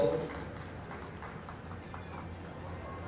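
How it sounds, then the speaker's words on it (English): Steady rhythmic clip-clop of draft horse hooves trotting on the ground at a horse show, moderately distant, with faint voices in the background. "This horse is very happy at a trot."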